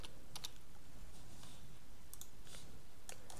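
Faint clicks and taps of a computer keyboard and mouse on a Windows PC, a few quick light keystroke clusters spread over a few seconds against a steady background hiss.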